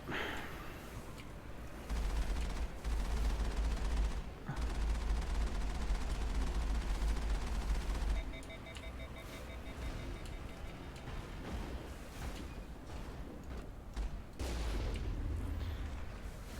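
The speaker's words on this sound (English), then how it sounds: "one of my favorite things to do for sure is to just fire this stupid cannon like point blank into guys" Cannon fire in the Mass Effect video game, heavy booming blasts and rattling bursts of gunfire in repeated volleys, loud and close, mixed with low rumbling combat noise.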